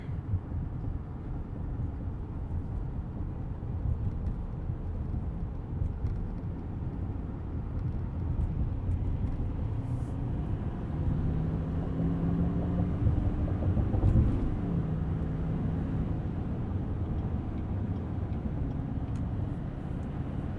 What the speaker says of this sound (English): In terms of noise, this truck is great on the highway.